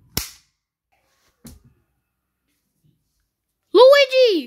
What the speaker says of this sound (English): You just shot Yoshi.